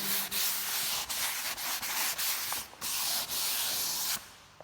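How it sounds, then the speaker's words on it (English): Abrasive grit rubbed by hand across the painted surface of a VW 1303 model, a steady, close, scratchy hiss in long strokes broken by brief pauses, with no voices. "slide the grit on the surface, nice and easy"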